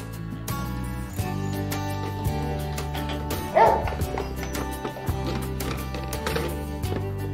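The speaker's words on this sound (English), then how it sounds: "She's greeted by her two dogs, Esther and Ronnie." Two pet dogs excitedly greet a young raccoon dog at home, giving repeated short barks and high yips over steady background music.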